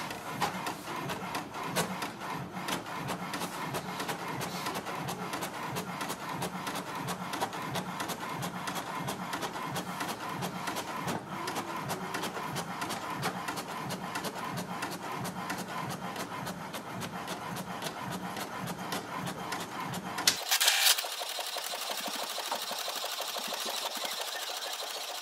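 An HP DeskJet 4132e inkjet printer runs through a page with a steady mechanical whirring and rhythmic print-head shuttling, a louder clunk near the end as the sheet feeds out.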